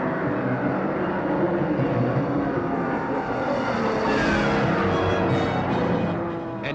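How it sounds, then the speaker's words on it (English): Racing cars roar around the Brands Hatch Grand Prix circuit, a dense, continuous engine drone that stays loud and steady throughout with no clear gaps between passing cars. "here's where Look at Life goes motor racing on the Brands Hatch Grand Prix circuit"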